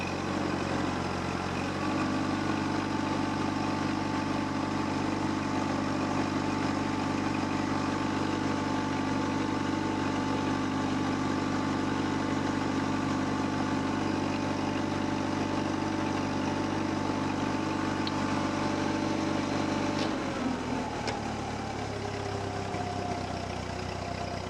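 A 1948 Ford 8N tractor engine runs at about quarter throttle, a steady, loud drone that holds for around twenty seconds and then shifts lower as the speed changes near the end.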